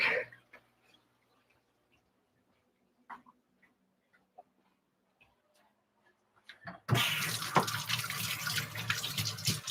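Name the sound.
rinsing a filter part under a sink tap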